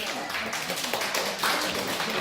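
Participants in a singing class clap together in a steady, noisy wash of hand claps that runs the full moment without a break.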